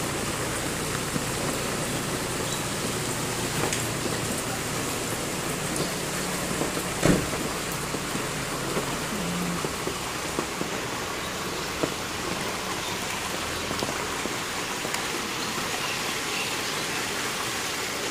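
Heavy rain pours down continuously, a dense, even hiss of drops striking surfaces with a few louder splashes, steady from start to finish with no voices.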